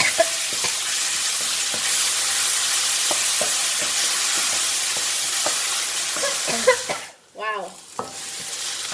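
Chili, onions and garlic fry in hot oil in a pan for a spicy noodle soup, a steady sizzle broken by stirring clinks, then a sharp hissing burst near the end before the frying settles again.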